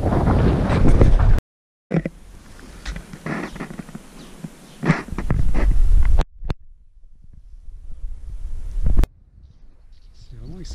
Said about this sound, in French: il y a du vent. On l'entendra sûrement dans le micro